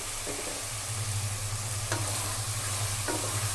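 Ground masala frying with chicken for a village-style chicken curry, a steady close sizzle with occasional scraping stirs and a low hum underneath.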